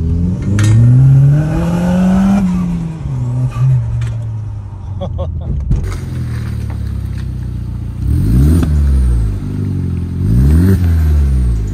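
An Audi S3 with a 1.8T engine revs hard on the road, its loud engine note climbing and falling in repeated sweeps, with sharp rev rises near the end over steady road roar.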